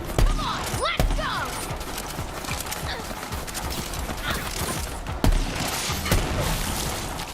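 Gunfire in a Borderlands-style shooter video game, bursts of shots with sharp loud cracks near the start and middle, set against busy game effects and clatter.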